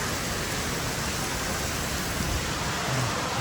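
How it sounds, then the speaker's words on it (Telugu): Heavy rain pours down in a dense, even hiss that fills the whole stretch without pause, steady and close, with no voices. "Heavy rainfall."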